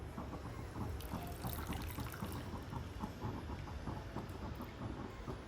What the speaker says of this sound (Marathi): आता आपण हा थंड पाण्यात टाकून घेऊया पालक.